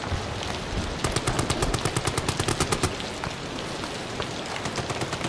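Rapid burst of gunfire in the horror game Amnesia: The Bunker, a string of sharp evenly spaced cracks over a steady noisy background, moderately loud and alone.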